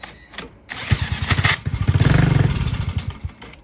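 A chopper motorcycle engine with a carburetor needing cleaning sputters and catches, running in rough, uneven chugging pulses that build into a steadier idle before tapering, close and loud with no talk.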